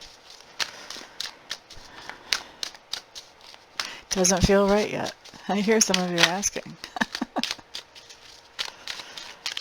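Quick, crisp tarot-card-shuffling riffles and taps repeat through the clip, with a person talking briefly in the middle.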